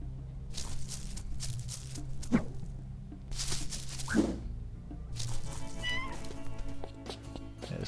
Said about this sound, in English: That's like the softest Mew ever.